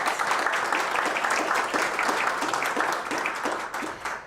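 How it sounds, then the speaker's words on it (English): A room full of people applauds the Women of ImpaCT finalists at an awards event, steady rhythmic clapping from many hands holding strong throughout with a slight drop near the close. "let's give one more round of applause for our Women of ImpaCT finalists"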